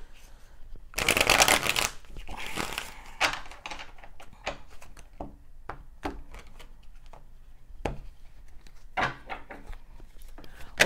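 A deck of homemade tarot cards is shuffled close by in a loud riffling burst, followed by scattered card flicks and taps while a person talks.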